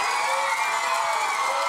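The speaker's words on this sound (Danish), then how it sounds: "Klap, hvis I synes, at det er den flotteste!" Dense, continuous crowd noise from a studio audience cheering and clapping, loud and sustained without a break.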